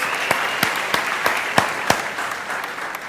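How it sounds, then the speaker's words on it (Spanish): Applause from the audience at a live-streamed motivational talk in Spanish, steady crowd clapping with a few sharper individual claps standing out, fairly loud and continuous with no talk over it. "Le damos un aplauso a los que nos sintonizan a través de nuestras redes."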